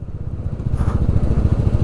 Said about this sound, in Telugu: ఇప్పుడు మనం ఇంజన్ బ్రేకింగ్ మీదనే వెళ్ళాలి, బ్రేక్స్ అసలు పడట్లేదు.